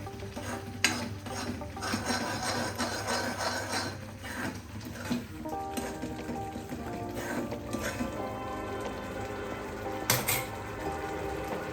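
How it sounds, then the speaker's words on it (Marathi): Chilli masala is sautéed in a kadhai for pomfret curry: a spoon scrapes and clinks against the pan over a soft, steady sizzle at close range, with a few sharper knocks. "पण चांगला मिक्स करून चांगलं परतून घ्यायचं आहे कढईमध्ये"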